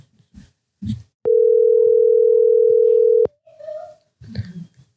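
A telephone call rings out as one steady, loud tone lasting about two seconds, with brief clicks at its start and end and softer indistinct sounds around it.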